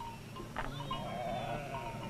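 A sheep bleats on dry Navajo grazing land, one wavering nasal call at moderate distance over a faint background hum.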